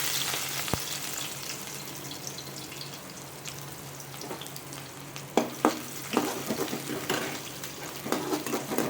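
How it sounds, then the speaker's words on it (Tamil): Onions sautéing in hot oil with mustard seeds, urad dal and cumin for a Chettinad egg masala curry, a steady low sizzle with scattered clinks and stirring scrapes growing busier toward the end, no talking. "இந்த வெங்காயம் நல்லா வதங்கட்டும்."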